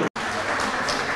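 Audience applause at a machinery industry association's centennial meeting, a dense steady wash of clapping that fills the whole moment after a short silent gap at the start.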